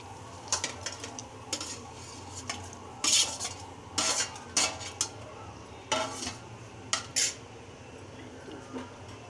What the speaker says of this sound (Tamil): நெக்ஸ்ட்டு நம்ம வதக்கி வச்ச கத்திரிக்காயை போட்டுக்கலாம்